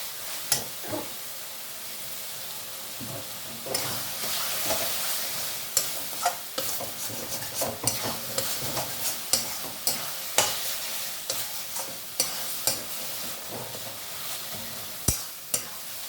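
Chicken is stir-fried in a thick gravy for Bengali chicken kosha, with a continuous sizzle overlaid by repeated scraping and knocking of a spatula against the pan, loud and close.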